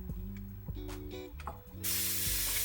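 An airbrush releases a burst of paint spray, a loud steady hiss that starts abruptly near the end after some clicking and mechanical handling noises close by.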